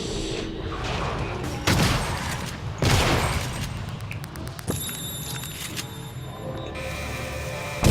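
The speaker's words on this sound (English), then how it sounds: "Turret's getting hold of him." A turret fires in the video game Prey, with rapid bursts of gunfire and heavy booming impacts, loud and close, followed by electronic game tones.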